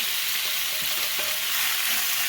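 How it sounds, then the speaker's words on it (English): Steady, bright sizzling of meat for Philly cheesesteak sliders frying in a hot pan, a continuous crackling hiss with no talking. "You want to hear that sizzle"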